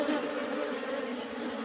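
Apis cerana honey bees buzz in a steady, dense drone while honey is being harvested from an old-style hive box, the swarm sound close and continuous throughout.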